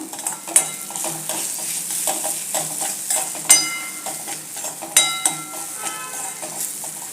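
Spices and salt are stirred in a pan for a bitter gourd dish, with repeated metallic spatula scrapes and clinks over a soft sizzle, close up and without talk.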